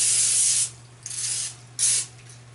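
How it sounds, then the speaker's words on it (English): Cooking spray hisses from a can onto a baking pan in two bursts, a longer one followed by a shorter one, close and loud, with a softer hiss in between. "We're going to give this a quick spray."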